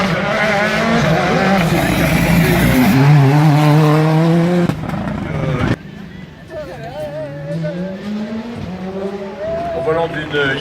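A Hyundai i20 rally car screams at high revs on a super special stage at the 2018 Vosges Grand Est rally, its engine note rising and shifting under constant commentary and crowd noise.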